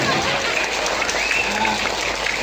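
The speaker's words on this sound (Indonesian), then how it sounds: "Sekarang lagi tepuk tangan" An audience at a live comedic puppet show in Indonesia claps steadily, a dense, fairly loud wash of hands with some voices and faint tones mixed in underneath.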